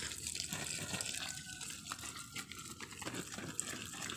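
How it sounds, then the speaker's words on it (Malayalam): Water poured over soil in a vegetable garden, a steady broadband splashing and gushing that runs continuously and fairly loud throughout, with no talk. "നമ്മൾ വെള്ളം ഒഴിച്ചു കൊടുക്കാൻ എല്ലാ സ്ഥലത്തേക്കും നന്നായിട്ട് വെള്ളം ഒഴിച്ചു കൊടുക്കാം."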